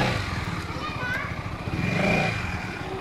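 A Yamaha XMAX 300 scooter engine revs up close with a steady throbbing idle rising to a fuller roar and easing back, while people talk nearby over it.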